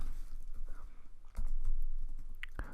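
Rapid keyboard typing on a computer running Kali Linux, with close, crisp key clicks in quick uneven bursts and a couple of sharper strikes near the end; no one speaks.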